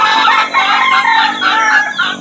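A rooster crows loudly and close up in a long drawn-out call, with chickens clucking around it.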